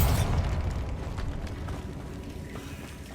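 A Bombarda spell detonates in Hogwarts Legacy, a heavy booming explosion that hits loud at the start and rumbles away with crumbling, rattling debris over a few seconds, ending in a sharp click.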